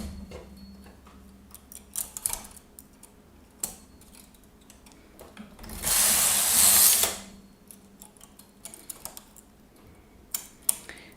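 A domestic knitting machine carriage is pushed across a single row, making a brief rushing, rattling slide of about a second amid scattered clicks and ticks from the machine.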